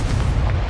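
A Confringo fire spell explodes in the Hogwarts Legacy video game, a short, heavy, booming blast with a dense low-end rumble that fills the whole brief moment.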